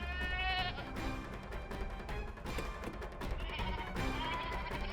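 Goat bleating repeatedly in a dubbed drama scene, wavering cries over a dense busy background with music-like tones, moderately loud throughout.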